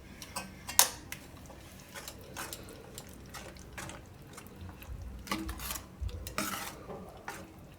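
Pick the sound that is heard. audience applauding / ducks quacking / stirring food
stirring food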